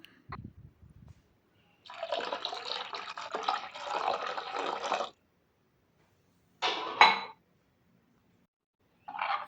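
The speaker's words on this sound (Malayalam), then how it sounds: "ഒരു 1/2 ഗ്ലാസ് വെള്ളം കൂടി ചേർക്കാം." Water pours into a pot of Kerala mackerel fish curry for a few seconds in a steady splashing stream, followed later by a short second splash amid quiet.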